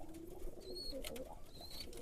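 Pigeons coo softly among a small group kept in boxes while feeding on grain, with low, faint, brief throaty calls and occasional higher chirps in quiet surroundings.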